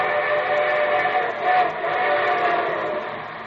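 A steam train whistle sounds as the radio show train arrives, a loud, sustained multi-tone blast holding steady for several seconds with a slight swell midway, heard alone without speech.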